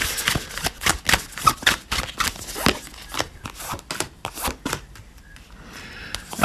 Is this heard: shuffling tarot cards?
yes